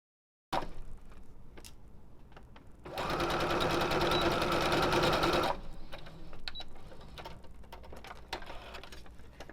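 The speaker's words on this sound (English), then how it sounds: "Now we're going to sew using 5/8 of an inch seam allowance, back stitch at the beginning and at the end." A sewing machine stitches a 5/8-inch skirt seam, with back stitching at the start and end: a few short bursts and clicks, then a steady fast whirring run of about three seconds, followed by quieter handling noises.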